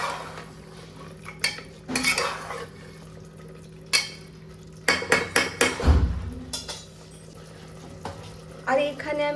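Chicken being stirred and fried in a pan for a home-style dish, with repeated metal clanks and scrapes of a utensil against the pan in irregular bursts over a low sizzle.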